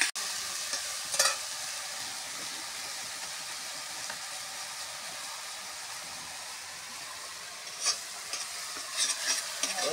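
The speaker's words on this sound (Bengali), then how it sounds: "এবার মাছটা ভাজবো ভালো করে।" Fish frying in a pan in a home kitchen, cooked in a traditional grandmother's style, with a steady loud sizzle that runs the whole time and a few sharper crackling bursts and stirring scrapes, with no talk.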